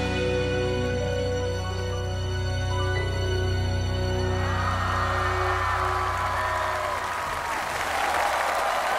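Applause from a television studio audience for performers on a Chinese variety show, a dense steady wash of clapping mixed with music that runs throughout, growing brighter and more crowd-like in the second half.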